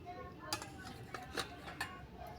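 A bowl for a yogurt caramel fruit salad is picked up and set down on a kitchen surface, giving a few faint, brief clinks and knocks spread out over a soft background hiss.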